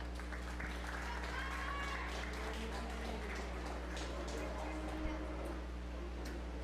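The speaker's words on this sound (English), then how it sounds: "Let's give them a round of applause, please." Audience applause at a 4-H fair beef cattle show, a light scattered clapping over a steady low hum from the show hall, continuing for several seconds.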